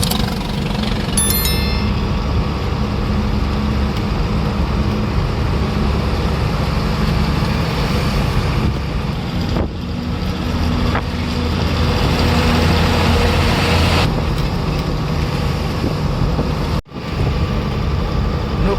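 Several Bharat Benz delivery trucks pass along a highway, a steady loud engine and tyre roar with swelling passes and a brief dropout near the end.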